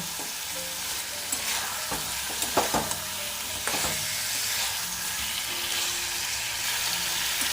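Fried beetroot, carrot, papaya and potato sizzle steadily in spice paste in a pan for a Bengali fish curry, with a few scraping stirs partway through. Close and continuous, with no talking.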